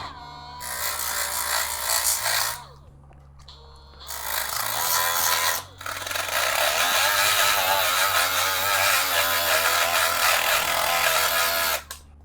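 Ryobi 18V cordless die grinder roughing up a surface for glue, a loud, steady high-pitched whine running in three bursts with short pauses between them, heard up close and without talk.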